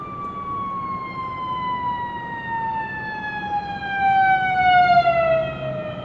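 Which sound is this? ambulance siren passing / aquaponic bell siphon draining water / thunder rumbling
ambulance siren passing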